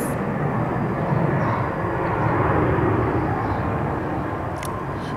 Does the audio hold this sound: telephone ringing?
no